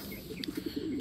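Pigeons in a storm-damaged coop during a typhoon coo softly in a repeating low rhythm, the calls fairly close against a steady background hiss of rain and wind.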